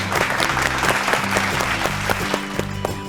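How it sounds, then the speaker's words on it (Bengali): A studio audience on a Bengali family game show claps in a steady, lively round of applause, with light music playing beneath. "জোরে হাততালি।"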